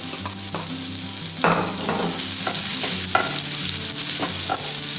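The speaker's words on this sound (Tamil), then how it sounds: "அப்புறமா ஆனியன் ஆட் பண்ணிக்கோங்க." Onion fries in a pan with green chili and garlic for mango rice, giving a close, steady sizzle broken by repeated scraping stirs of a spoon, with no talk.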